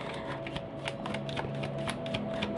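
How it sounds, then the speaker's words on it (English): A deck of tarot cards being shuffled close by, a steady run of rapid riffling and soft flicking slaps with no pauses. "I will do my spiels as I shuffle"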